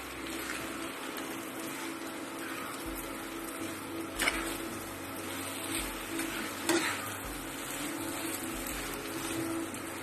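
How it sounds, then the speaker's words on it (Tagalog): Biko sticky rice cake being stirred in a pan gives a faint, continuous soft scraping and bubbling texture, with a couple of light knocks of the spoon against the pan. "Ihalo ato ni tarong."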